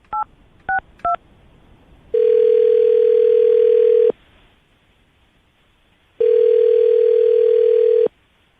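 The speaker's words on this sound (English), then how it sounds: "I'm going to dial her phone number right now, get her on the phone" Telephone line on a call being placed: three short touch-tone dialing beeps, then two steady two-second dial-tone bursts separated by a silent gap, loud and clear with no talk.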